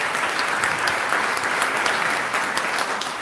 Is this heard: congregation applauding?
yes